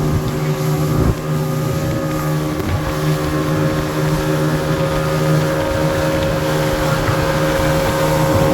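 A speedboat engine runs steadily near Koh Samet in Thailand, a loud, constant droning hum with tonal whine and water and wind noise, with no speech over it.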